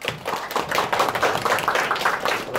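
An audience claps at the opening of a Korean national policy symposium on presidential leadership, a dense and fairly loud burst of applause running steadily through the brief moment with no talk.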